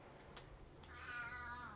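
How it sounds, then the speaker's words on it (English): A 15-year-old cat meows indoors, a soft, fairly faint drawn-out cry near the end after a couple of small taps, with a quiet room hum underneath. "he's just gonna sit here and meow if I don't pick him up"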